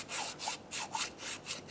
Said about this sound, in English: Using a sanding block, we're going to clean the mating surface for our manifold.